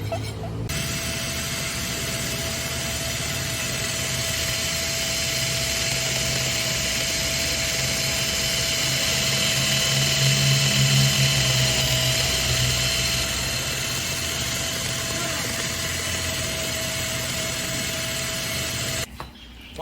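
A motorcycle sprocket hub bushing is worked with a file or grinding tool, giving a continuous high whirring drone that runs steadily for nearly twenty seconds with a faint tonal whine and no talk.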